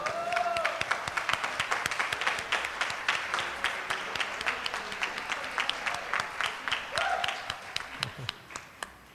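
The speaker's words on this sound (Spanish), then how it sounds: "Un aplauso para ellos" Audience applause at a graduation ceremony for Bible and theology certificate students, a steady patter of many clapping hands that thins toward the end, with a few brief voices calling out over it.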